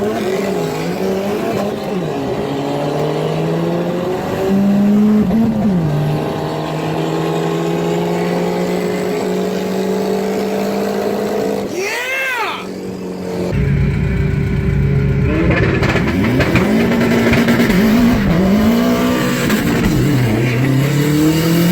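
A turbocharged Ford Fox body races other cars, its engine roaring loud and steady through hard pulls and gear changes, with a brief dip in the middle before climbing back to full throttle.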